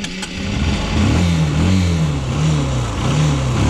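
A motorcycle engine revving hard to climb out of a rut on a rough Welsh byway, a loud, close, wavering drone that rises and falls with the throttle over steady wind noise.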